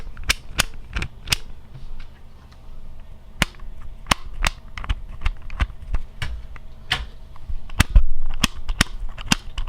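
A magnetic Lingao Clock puzzle being turned by hand gives sharp, dry clicks and snaps in irregular bursts, close and fairly loud, with short pauses between moves.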